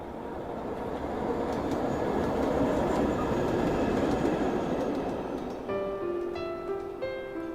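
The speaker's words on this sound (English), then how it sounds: "I could hear the sound of the train accompanied with faint vibrations." Train passes in a visual novel game scene, a steady rumbling roar of rail clatter building and holding, then ringing tonal squeals and chimes rise near the end, with no voices.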